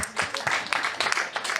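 Audience at a French-language stand-up comedy show breaking into brief scattered applause with a few cheers, fairly close and lively, lasting under two seconds.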